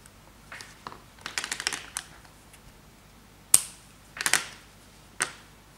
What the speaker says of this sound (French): Maintenant, je vais couper le fil.